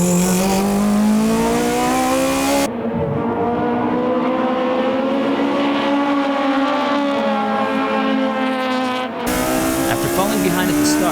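Racing cars in a close battle on track, a Hachiroku-era Japanese race with one driver pressuring another. Engines roar continuously with rising and falling pitch and brief tire squeal, under steady commentary.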